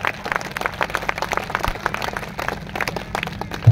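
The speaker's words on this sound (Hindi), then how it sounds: "तालियां बजाओ बेटा" An audience at a Durga Maa devotional jagran claps in a lively, uneven burst of many hands, steady and fairly close throughout.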